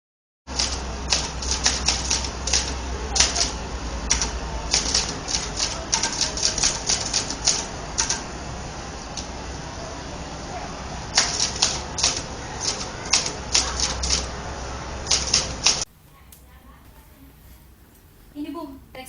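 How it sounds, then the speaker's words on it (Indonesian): A manual typewriter types a text in a school drama about the Indonesian proclamation, giving rapid, irregular clacking keystrokes in bursts separated by brief pauses before stopping abruptly. "Ini, Bu, teksnya telah selesai saya ketik."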